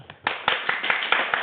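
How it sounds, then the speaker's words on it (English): A small group claps hands during a FIRST robotics livestream, a short burst of a few people clapping in loose, uneven rhythm, close and fairly loud after a brief pause. "Everybody clap."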